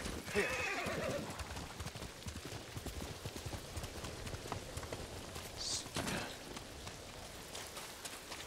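A horse in the video game Ghost of Tsushima gives a loud whinny near the start, and its hooves clip-clop in a steady gait under a patter of rain.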